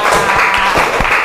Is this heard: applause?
yes